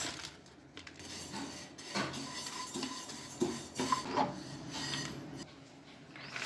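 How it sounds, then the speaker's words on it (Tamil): Sunflower seeds and flax seeds roasting in a pan over a low flame, with scattered clinks and scraping stirs against the metal and soft rattling of the seeds, fairly quiet and close. "இந்த ரோஸ்ட் பண்ணிகிட்ருக்கேன். இது சன்ஃப்ளவர் சீட்ஸ். இது வந்து ஃப்ளாக் சீட்ஸ்."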